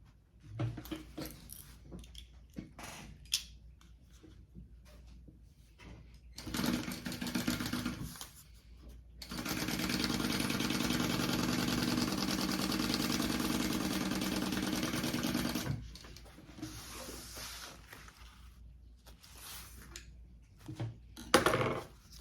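A sewing machine sews a crossbody bag panel with a steady, moderately loud whir of several seconds, framed by quieter handling noises and short bursts of stitching before and after.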